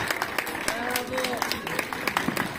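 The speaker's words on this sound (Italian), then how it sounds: "vorrei che fate un applauso a Pierpaolo" An audience at a San Vito festival evening show in Forio claps for a performer, a fairly quiet patter of applause running under someone speaking over it.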